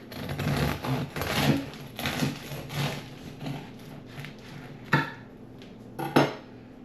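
Knife sawing through the crispy crust of a homemade sourdough loaf, rhythmic crunching strokes close by, followed by a couple of sharper knocks near the end.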